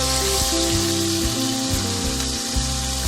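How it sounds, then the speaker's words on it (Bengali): Chopped onion hitting hot oil left over from frying chicken for street-style chicken chowmein, a loud continuous sizzle with a few soft knocks and stirring bumps underneath. "এবার তেলের মধ্যে দিয়ে দিলাম পেঁয়াজ কুচি"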